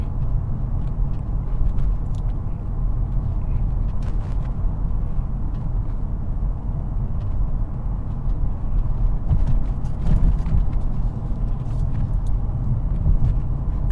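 A 2022 MK8 Volkswagen Golf R with a DSG dual-clutch gearbox drives along, heard from inside as a steady, low road-and-engine rumble that continues throughout without any voices.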